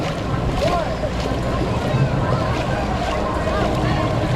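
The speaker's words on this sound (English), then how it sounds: "Oh yeah, these waves are kicking in." Waves wash and churn continuously close by in a water park wave pool at LEGOLAND Florida, with wind buffeting the microphone and faint voices mixed into the rushing water.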